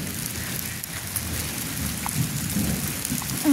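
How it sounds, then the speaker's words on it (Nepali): Rain falls steadily with a broad hiss, accompanied by low rumbling thunder in the background; no voices. "मैले आज यता 11 आउँदाखेरि पानी पर्छ सोचिनँ।"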